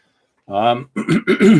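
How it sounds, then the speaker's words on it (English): A man gives a single cough and then clears his throat in a few rough bursts, close and loud. "I was coughing. It's just a regular cough, clogged up throat."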